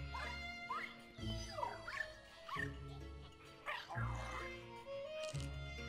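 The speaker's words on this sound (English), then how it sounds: "I really gotta control this dog" A dog in the video game Luigi's Mansion 3 gives repeated short barks and whimpering yips in a steady rhythm of bursts, close and clear with tonal game music underneath.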